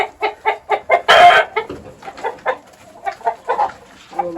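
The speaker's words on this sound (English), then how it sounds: "yeah, gorgeous big rooster there." A rooster clucks in a rapid run of short, rhythmic calls, with one louder, harsher squawk partway through, close by.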